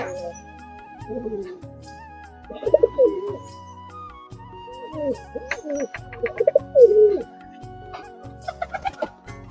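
Pigeons, including a Giribaz pair and a youngster, coo and cluck in a loft in repeated soft, low bursts, with musical tones running steadily underneath.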